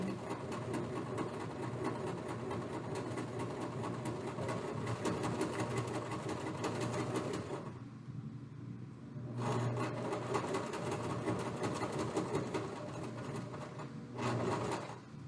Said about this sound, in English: continue to sew again with that 1/4 inch